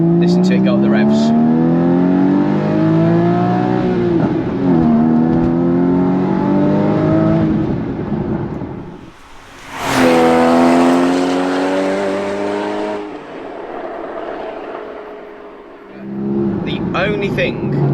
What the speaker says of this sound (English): Listen to it go up the revs.